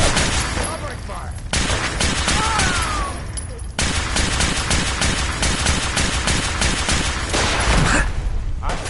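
Sustained rapid gunfire from an in-game firefight in Fallout 4, dense bursts of automatic shots that cut out twice, loud and close, with scattered voices under the shooting.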